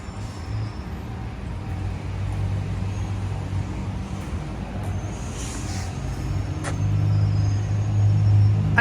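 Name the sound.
buses at Joliet Gateway transit center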